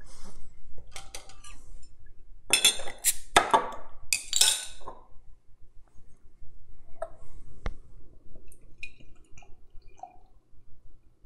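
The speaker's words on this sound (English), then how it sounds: "let's get this stout in the glass and get this experience on" Stout from an Untitled Art bottle poured into a glass: glassy clinks and a short gurgling pour in a burst near the start, then quieter fizzing and small taps, with no talk.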